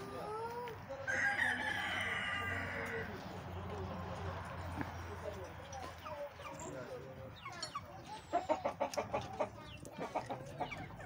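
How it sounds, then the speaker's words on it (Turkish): A rooster crows outdoors in a garden in Fethiye, Turkey, among clucking chickens, pigeons and general farmyard bustle, with people talking nearby and a burst of sharp clucks near the end. "Güzel bir horoz."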